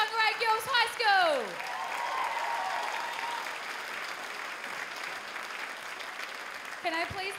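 A crowd applauds a Whangarei Girls High School Showquest 2019 performance, dense steady clapping sustained throughout, with a voice speaking briefly over it at the start and again near the end.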